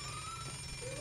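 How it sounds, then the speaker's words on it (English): A phone rings in the game Eternal Castle Remastered, a short electronic trill over a dense, loud game soundtrack, with no speech. "That's a phone ringing as well."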